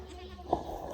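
A single short bleat from one of the barnyard goats sounds briefly over a quiet morning farm background, moderately close and not very loud.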